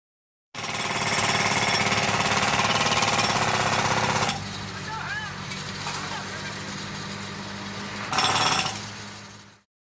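A jackhammer pounds continuously and loudly at a city street construction site, stopping partway, then bursting again briefly, amid traffic noise and faint squeaks.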